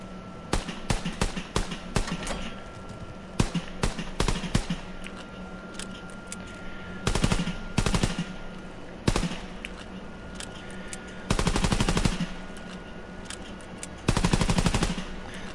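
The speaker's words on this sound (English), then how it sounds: "The machine pistol." A machine pistol fires in a WWII video game, with rapid bursts of sharp gunshots, some short and some sustained for about a second, repeating loudly across the stretch with brief pauses between volleys.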